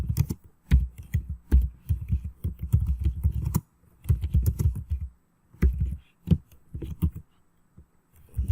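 Keys clatter on a computer keyboard in close, quick bursts of typing separated by short pauses, with no voices.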